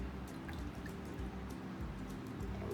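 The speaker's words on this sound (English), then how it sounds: "You're gonna add the water." Water trickles and pours into a mixing bowl while slime is being made, a soft, steady wash of liquid noise with faint drips, close by and without speech.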